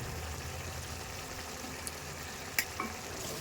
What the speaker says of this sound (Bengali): বলক চলে এসেছে, এবার দিয়ে দিচ্ছি একে একে মাছগুলো।